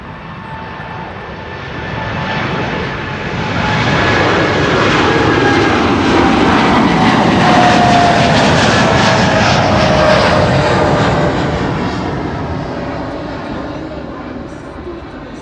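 A Boeing 787 Dreamliner taking off from Amsterdam Schiphol on runway 24 builds into a powerful jet roar that peaks mid-way and slowly fades, with a voice talking over it.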